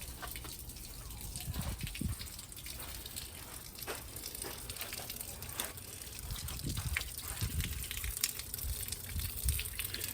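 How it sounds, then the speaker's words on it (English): A backyard waterfall flows continuously with a steady, moderately quiet rush of water and light splashing trickles throughout, with no clear speech over it. "this is my waterfall."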